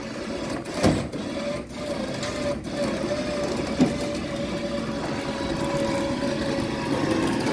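A car winch hauls an MGB V8 racecar project with a steady mechanical whirring hum, close and continuous, with a couple of brief thumps and no speech.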